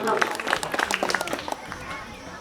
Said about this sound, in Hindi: अब हम लोग तालियों से इनका स्वागत करेंगे, जोरदार तालियों से।